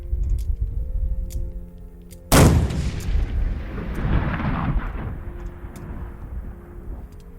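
A single loud, booming shot from a CheyTac Intervention long-range rifle fired at a target about 1220 away, a sharp blast followed by a long rolling echo that slowly fades.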